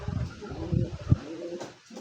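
A pearl-eye racing pigeon coos nearby in soft, low throaty pulses, a few rolling murmurs repeating over a quiet background.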